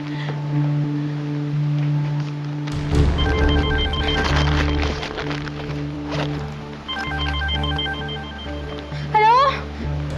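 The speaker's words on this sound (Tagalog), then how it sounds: "Aling Dolores, huwag mo muna ibababa yung telepono." Telephone ringing in a Filipino drama episode, a tonal electronic ring repeating in steady bursts under a low musical drone and scene noise, ending in a brief rising warble.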